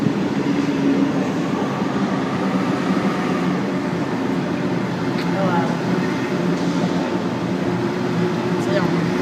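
A Sydney Trains train stands at the Olympic Park platform, giving off a steady, loud hum and rumble that runs without a break. A few faint clicks and squeaks are heard, and no one speaks over it.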